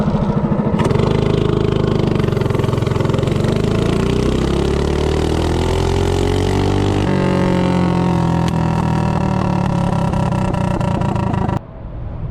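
A Bonanza minibike with a Duromax 208cc engine and a VM22 slide carburetor accelerates hard from a standstill. The loud, close small-engine drone climbs steadily in pitch for about eleven seconds, then cuts off sharply.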